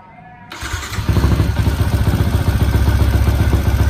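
A Yamaha Exciter 150 motorcycle, built up from stock to a 62 mm bore 175cc engine, starts after a brief quiet moment and settles into a loud, steady, throbbing idle close by.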